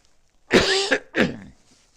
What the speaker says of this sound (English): Let me cough this out.